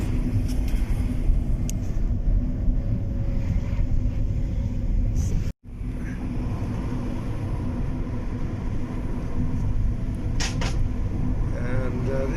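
Car driving on a motorway near Heathrow, a steady loud road and engine rumble from inside the cabin with one brief dropout midway.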